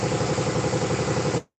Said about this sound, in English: Air compressor's running, so sorry the noise level got a little high.